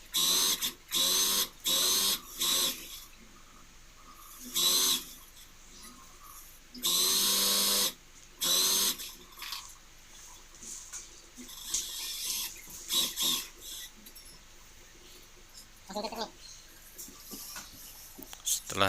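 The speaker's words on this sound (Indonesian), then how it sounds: "kita jahit keliling" Sewing machine stitching around a fabric edge, running in short bursts of rapid rattling stitches separated by pauses, with quieter handling noises between runs.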